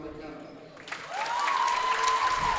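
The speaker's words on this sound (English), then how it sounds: "Please join us in a huge round of applause for McKenna" Audience applause at a girls' high school basketball game in a gym swells into a sustained, loud clapping roar from the crowd after a brief spoken introduction, with a whistle-like tone riding on top.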